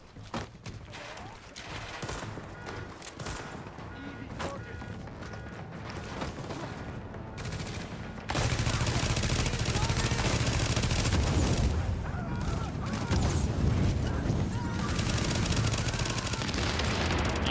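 Sniper and other gunfire in a firefight in the video game The Division, with sharp repeated shots over a dense, noisy game mix that grows louder and busier partway through.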